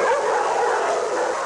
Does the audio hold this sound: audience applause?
no